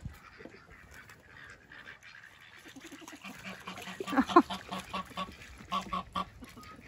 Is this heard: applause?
no